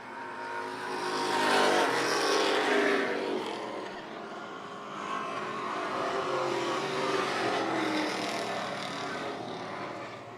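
Race cars roar around turns three and four on the final lap toward the checkered flag, a loud sustained blend of engines swelling, easing and rising again as the pack passes.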